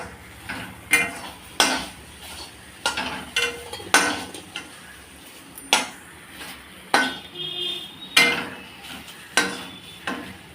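Okra curry being sautéed in a pan, with repeated sharp metal-on-pan scrapes and clinks of a spatula at an irregular stirring rhythm over a faint sizzle, close and clear with no talking.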